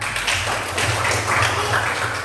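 A school class applauds together in an Indonesian classroom during a biology lesson, a dense, steady wash of clapping that stays loud and even for about two seconds.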